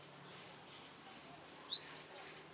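Birds chirp outdoors on a Philippine island, two short bright calls, one at the start and a louder one near the end, over a quiet, faint breezy background.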